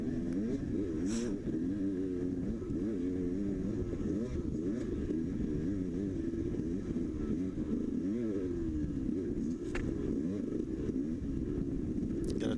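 Engine of an enduro motorcycle revving hard and steadily throughout, loud and close, the throttle rising and falling in a continuous droning wail with no pauses.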